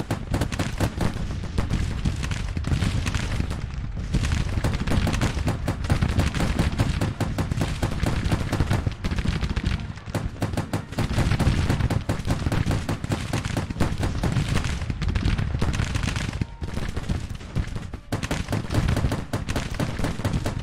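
Machine guns fire in Grand Tactician: The Civil War, a dense, unbroken rattle of rapid gunshots that stays loud and close throughout, with scattered heavier booms mixed in.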